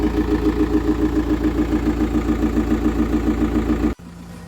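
A tractor engine chugs loudly in a steady, rapid rhythm, then cuts off abruptly near the end, leaving a faint hum.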